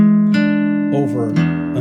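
An electric guitar rings out a chord shape over an E, a sustained chord followed by a few more picked notes and changes, close and clear with no talk.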